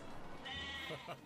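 A sheep bleats faintly in the video game One Drunken Knight, one short wavering cry followed by a brief second one, quiet under background noise.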